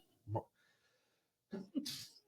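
A quick intake of breath, then a loud, sharp sneeze bursts out close to the microphone; a faint voice is heard earlier.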